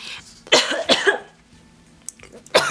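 Several harsh coughs in a short fit from a person nearby, with a burst around the middle and another cough at the end, heard alone without speech.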